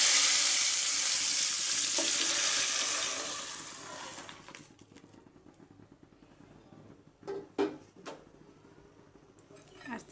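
Lentils go into a pan of hot oil with fried garlic, setting off a loud hissing sizzle that dies down within a few seconds, followed by quiet bubbling and a few clinks of a utensil.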